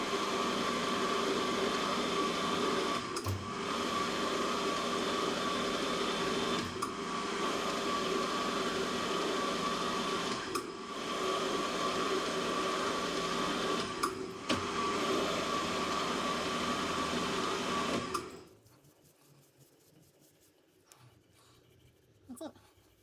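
A metal lathe cuts a thread on a part for a hand-built winch, giving a steady, loud machine whir with a few brief periodic dips before it stops abruptly into near silence.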